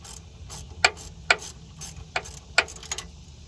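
Ratchet wrench with an extension and a 1/2 inch socket turning a bolt while replacing the starter on a 1987–1991 Ford truck: four or five sharp, close clicking strokes at an uneven pace, with no voices.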